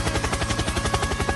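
Rapid automatic gunfire from a helicopter in the Project Zomboid video game, a steady fast burst of shots over a thick, continuous rumbling drone, with no talking.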